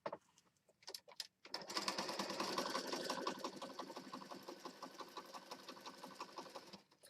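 Sewing machine stitching a mini journal cover for a Christmas craft, running steadily and fairly loud for most of the clip after a few short stop-start bursts at the beginning, with a fast, even rhythmic whir.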